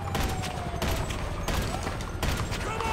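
Rapid bursts of gunfire in GTA Online, dense overlapping shots in repeated volleys with brief gaps, loud and continuous over a busy game soundscape.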